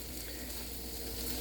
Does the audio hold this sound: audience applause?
no